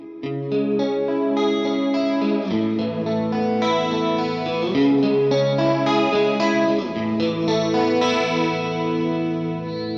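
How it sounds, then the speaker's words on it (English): An electric guitar plays an ambient tone through a Line 6 Helix, with sustained chords washed in chorus and light distortion. It rings steadily and loudly with no voice over it. "Let's get an ambient tone going"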